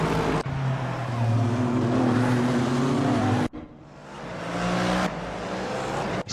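Race cars in a GT3 racing video game at Sepang roar past the finish line, with loud engine drones and a sharp cut between passes, and no talking.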